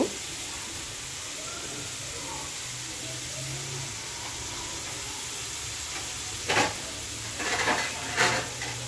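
Potato pieces that were soaked in salt water fry in a pan, giving a steady soft sizzle of hot oil throughout, with a few louder scraping clinks of a utensil near the end.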